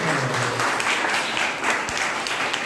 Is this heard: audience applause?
yes